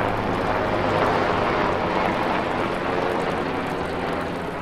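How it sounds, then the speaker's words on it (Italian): A helicopter passing overhead, producing a loud, steady engine and rotor roar that fills the whole stretch without any talk. "Elicottero."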